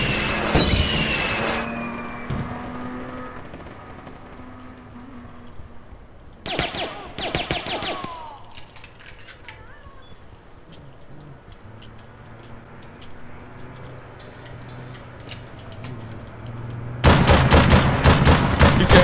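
Gunfire in the game APB Reloaded comes in short rapid bursts, a cluster in the middle and a loud sustained volley at the end, separated by quieter ambient stretches.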